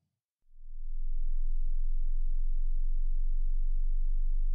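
A pure sine test tone for a hearing test, part of a sweep spanning 20 Hz to 20 kHz, starts after a short silence and holds steady and low, clean and alone.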